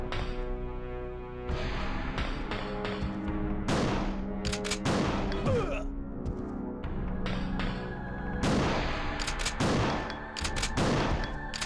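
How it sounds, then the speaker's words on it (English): Shotgun blasts in the PS1 Resident Evil 2 video game, a series of sharp, loud booming shots at irregular intervals over a steady game soundscape, with no talking. "but we'll use some shotgun."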